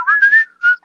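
A person whistles a few short, rising and level tones, close and clear, with a brief pause before a final note; no talking.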